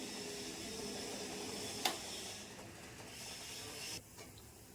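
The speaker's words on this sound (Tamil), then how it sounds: "ஸ்டவ் ஆஃப் பண்ணிடுறேன்" A gas stove knob is turned off after steaming sweet potatoes: a steady burner hiss runs throughout, a single sharp mechanical click sounds near the middle, and the hiss abruptly drops away near the end, leaving a quieter background. No one speaks.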